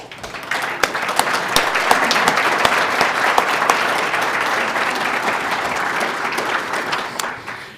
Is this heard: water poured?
no